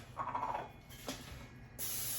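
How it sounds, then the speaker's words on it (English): Cooking spray hisses onto a cookie sheet in a home kitchen, a short, bright, steady spray burst near the end following quieter rustling. "Spray it with some cooking spray."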